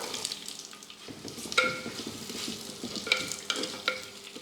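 Onions sizzle and crackle steadily in hot oil in a clay pot, with a few sharp clinks of a utensil striking the pot.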